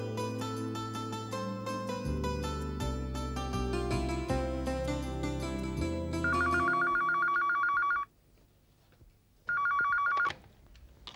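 A telephone ringback tone after dialing a call: a short two-part ring pulses twice with a pause between, clear and alone, following a stretch of music.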